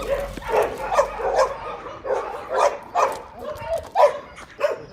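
A bonded pair of rescued dogs give a rapid series of short yips, whimpers and barks in quick succession, close by, while a person talks over them.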